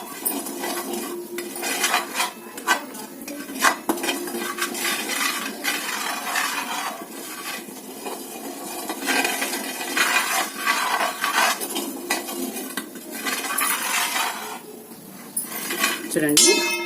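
Finger millet roasting in a pan while being stirred, giving repeated scraping and clinking of a utensil against metal, fairly close and steady with brief pauses throughout.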